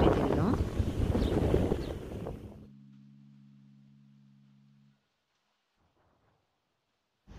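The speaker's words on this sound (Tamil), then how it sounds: "அந்த லேக் ரீச் ஆகிற இடத்துல நல்லாவே காற்று அடிச்சது" Wind gusts across the Dubai Expo lake in a loud, buffeting rumble against the microphone for about two and a half seconds before the sound cuts to near silence.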